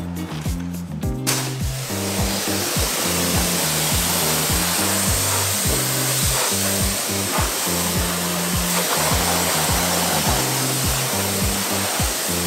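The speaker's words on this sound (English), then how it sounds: "which are first time rinsing and washing the carbon fiber wheels" Water sprays steadily and loudly onto the carbon fiber wheels of a 2021 Shelby GT500, a continuous close hiss, with a rhythmic low mechanical pulsing from the pressure washer running underneath.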